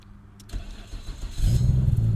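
A straight-piped 750 hp Nissan R32 Skyline GT-R engine cranks and catches, then rumbles into a loud, steady idle with a deep throaty growl up close.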